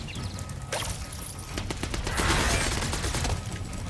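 Machine gun fire in Spyro 3 comes as rapid bursts of staccato shots over game noise, building into a dense, loud fusillade in the middle of the clip.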